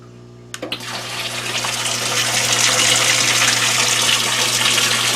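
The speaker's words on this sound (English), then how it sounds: "this is the pump in action" A brief click, then an internal aquarium filter pump kicks on and water surges into a strong, steady rushing gush that continues loudly to the end.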